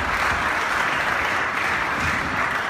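Steady, dense applause from a crowd at the opening of a 3D makers zone in Haarlem, an even wash of many hands clapping throughout with no break.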